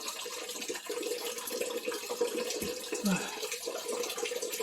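Water trickles and splashes steadily from an undrained plumbing pipe during a PEX valve installation, a faint, continuous running sound close by.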